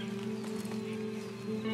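A horse in the video game Red Dead Redemption 2 gives soft hoof clops and snorting movement, heard briefly against a steady low hum of game ambience.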